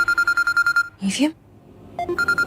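A phone rings with an incoming call in a run of rapid repeated electronic beeps, which pause while a voice speaks and then start again.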